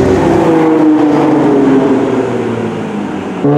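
A Nissan GT-R drives past close by, its engine tone sliding downward as it goes, loud at first and fading slightly toward the end.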